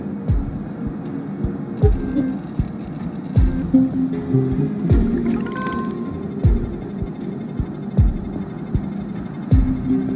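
Grinding gears of a disposal grinder in the game Whispers of a Machine throb in a low, continuous mechanical hum with a regular pulsing beat and occasional faint clanks.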